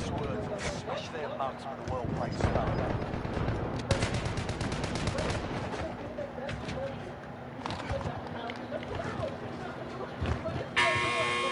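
Rapid gunfire from an FFAR rifle loaded with stopping power rounds in a multiplayer shooter game, dense repeated shots running throughout under constant game noise and voices talking.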